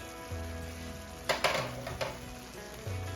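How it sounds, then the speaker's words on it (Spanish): Chicken in chipotle cream simmering and sizzling in its own juices, a soft steady bubbling hiss with a few louder spatters and a clink near the middle, close by with low hum underneath. "Se está cocinando en su propio jugo."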